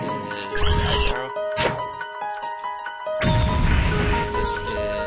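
Ice Arrow attack effect for a custom character in the Mugen fighting game: loud noisy bursts with bright icy tinkling and crashing hits, layered over steady tonal game music.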